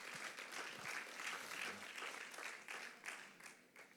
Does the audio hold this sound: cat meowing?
no